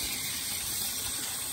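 Water flushes through a clogged radiator on a 1991 Nissan 300ZX Twin Turbo as a steady, close, full rushing gush that stays loud and even throughout, with no talk.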